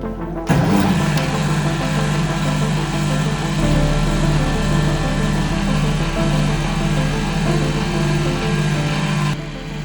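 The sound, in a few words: Liberty Engine free-energy motor starting and running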